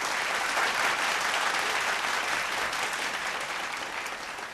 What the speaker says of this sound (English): round of applause as he makes his way onto stage